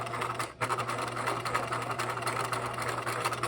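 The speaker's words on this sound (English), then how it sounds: "we're going to run a line of stitches at 1/4 inch" A sewing machine runs a steady line of thread-tracing stitches through fabric at a quarter inch from the edge, its motor humming continuously and close, with a brief pause near the start before the even drone resumes.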